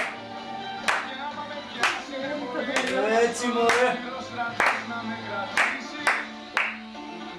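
Hands clap in a steady rhythm, roughly one sharp clap per second, to accompany someone dancing, with voices talking and calling out over the claps.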